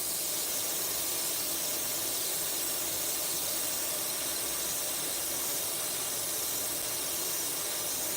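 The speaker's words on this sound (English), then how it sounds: "We're going to come in, just shade here." An airbrush spraying candy paint gives off a continuous, even hiss of air that holds steady and fairly loud throughout, with no talking.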